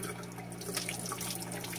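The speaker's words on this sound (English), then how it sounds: "let's put some water on the soap first again" Tap water runs steadily onto a bar of soap in a bathroom sink, a quiet continuous splashing trickle with no talking.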